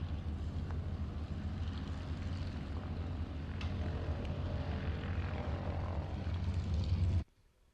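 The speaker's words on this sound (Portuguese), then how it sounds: "Pois os aviões aterraram já depois deste serviço que nós tivemos a assistir." Propeller firefighting airplanes landing at an airfield in 1974 produce a steady, loud droning engine roar that holds throughout and then cuts off abruptly near the end, with no talk.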